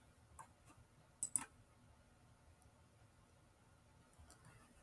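Quiet single mouse clicks, a few spaced soft taps and a sharper pair near the middle, with one louder click at the end over a near-silent background.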